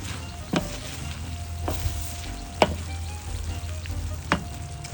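Shrimp being stirred into a pan of paella, a steady soft sizzle of frying broken by a few sharp scrapes and clinks of the utensil against the pan, close by with no talking.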